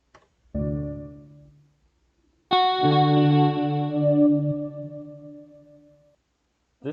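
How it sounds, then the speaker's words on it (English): Nintendo Wii YouTube channel sound: a short synth tone, a pause, then a brighter sustained chord with echoing layers that slowly fades, followed by a brief final blip. "this is actually the sound of YouTube from the Wii channel"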